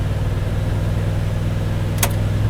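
Chevrolet Silverado truck running with a steady low engine drone and constant rumble throughout, a brief sharp high burst near the end, no voices.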